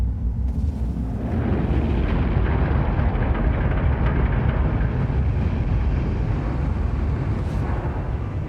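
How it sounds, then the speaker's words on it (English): Spacecraft engines firing up in the video game The Invincible, a loud, steady low roar that swells after about a second and then holds as a continuous rumble. "I'm starting the engines."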